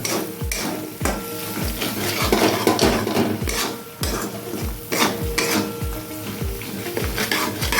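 A spoon scrapes and stirs spice paste steadily in a hot pan, rhythmic strokes knocking the metal while it sizzles underneath, with no talking.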